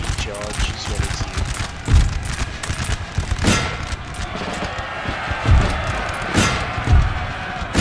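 Volleys of musket fire from the Napoleon: Total War game, fought between Saxon and Prussian armies, crackling in repeated ragged bursts with heavier thumps, continuous and loud throughout.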